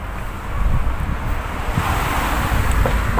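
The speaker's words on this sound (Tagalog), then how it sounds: "At may hangin pa." Gusty wind buffets the microphone in a steady low roar, with a faint wash of surf or traffic behind it.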